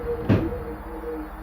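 A stairwell exit door gives one brief muffled thud as it swings and shuts, with quiet room tone before and after.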